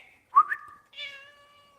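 A pet cat named Yoshi gives two meows close by: a short rising chirp-like call, a brief pause, then a longer drawn-out meow, with no other sound around them.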